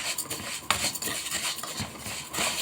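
A utensil scrapes and clinks against a pot as rice is stirred and fried in oil and ghee, with close, irregular metallic strokes over a faint sizzle.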